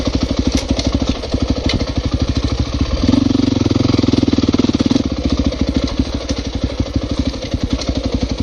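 A dirt bike's single-cylinder engine chugs in a steady rapid pulse while climbing a hillside toward a saddle, loud and close, swelling briefly in revs midway before settling back to its even beat.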